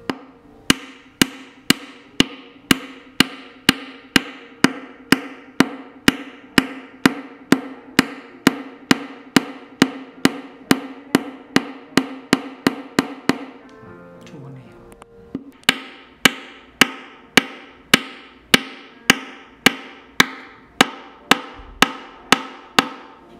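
Mallet blows driving parts together during Windsor chair assembly, a steady run of sharp, evenly spaced knocks ringing out close by, with a short scraping pause midway before the rhythmic hammering resumes.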